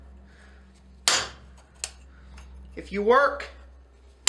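A hammer strikes a chisel while fold forming a forged metal leaf: one sharp metallic clank, then a lighter tap, followed by someone speaking close by.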